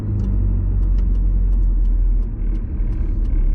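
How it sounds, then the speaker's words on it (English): A car drives slowly along a road on an Air Force base, its engine and tyre rumble steady and close throughout, with faint ticking and rattling inside the cabin. "it looks like the car's going 50 miles an hour, but it's going to be more like 30"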